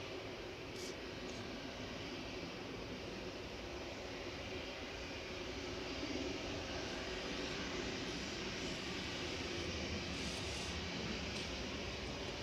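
An Airbus A380 jet departs Manchester Airport under blue sky, its engines a faint, distant, continuous roar heard alone for several seconds.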